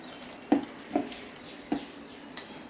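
Onion bhajiya batter being mixed with oil in a bowl: four soft, evenly spaced knocks of a spoon against the bowl over a faint background, quiet and close.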